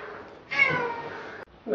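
A cat in a space-themed cooking video game gives a drawn-out meow, then a shorter second one starts, both close and clear over a quiet background.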